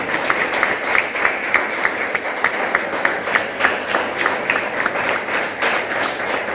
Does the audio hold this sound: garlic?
no